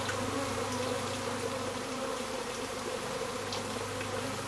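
Honeybees of a secondary swarm, with few workers but several queens, buzz steadily at a small hive entrance in a dense, continuous drone, close and loud, with no talk.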